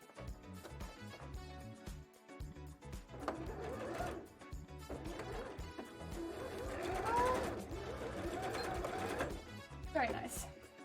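A sewing machine stitches bra fabric for a handmade Twins bra, its motor running in steady bursts beneath almost continuous talking.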